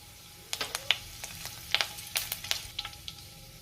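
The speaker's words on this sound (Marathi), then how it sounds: "तेलामध्ये मी जिरे घालते, त्यातच आपल्याला कढीपत्ता घालायचा आहे" Cumin seeds and curry leaves hit hot oil in a kadhai, bursting into a run of sharp crackles and pops over a low sizzle, close and fairly loud, with no voices.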